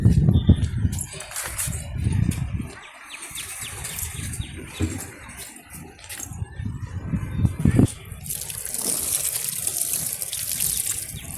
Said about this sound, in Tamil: செடிக்கெல்லாம் தண்ணி ஊற்றிக்கிட்டு இருக்கோம்.